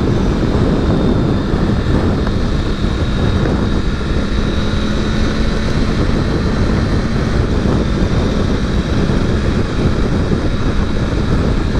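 Steady wind rush and engine drone from a Triumph Tiger 900 Rally Pro motorcycle being ridden, continuous and loud with no pauses.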